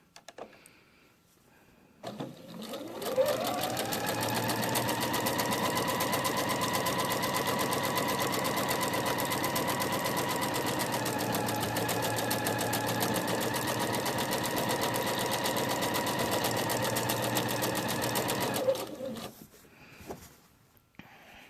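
A sewing machine stitches a pillowcase, whirring up to a steady, continuous hum for about sixteen seconds before stopping, close and clear with no speech.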